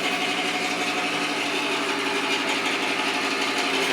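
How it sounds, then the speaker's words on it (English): A noisy bathroom exhaust fan in a motel room in Maggie Valley, North Carolina, gives a constant loud mechanical whir and rattle, steady and close, with no voices. "Fan's a little noisy."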